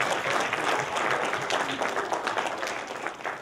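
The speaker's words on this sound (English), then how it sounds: "Give her a big round of applause as she goes back to her seat." An audience at a Christian magicians' fellowship program applauds, a dense, continuous round of many hands clapping at moderate distance, steady throughout with no voices standing out.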